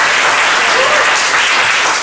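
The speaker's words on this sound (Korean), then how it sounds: "박수 한번 쳐주세요." An audience applauds in a steady, full burst of clapping at a talk, the sound dense and continuous with a faint voice briefly underneath.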